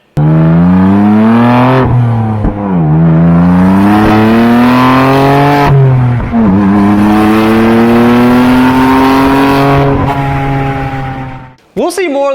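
A BMW F80 M3 engine on its stock exhaust pulls hard through several gears during spirited driving, loud and close, each rising drone cut by a quick shift before climbing again, ending in a brief burst.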